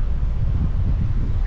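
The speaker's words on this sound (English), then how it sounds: "Yeah, it's definitely windy." Strong wind buffets the microphone outdoors on a spring bass fishing trip, a steady low roaring rumble with no voices.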